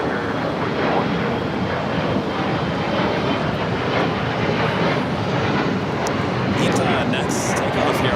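A jet airliner takes off from the south side runways at LAX, a loud, steady broadband engine roar that holds without a break throughout.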